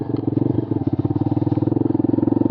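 A motorcycle engine runs close by in rural Nepal with a fast, even, thumping pulse, throbbing steadily throughout without speech.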